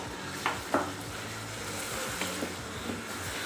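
Chicken nihari masala frying with yogurt in a pan as it is stirred: a soft, even sizzle with a couple of brief clinks and scrapes near the start, close and quiet, with no voices.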